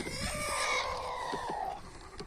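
Free-range chickens gathered at a coop door cluck and call close by, with one long rising vocalisation sustained over a steady chorus of farmyard birds.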